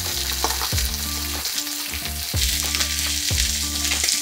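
Chicken skin frying crisp in a pan for butter chicken curry, a loud continuous sizzle with a rhythmic series of stirring or pan scrapes, no voices.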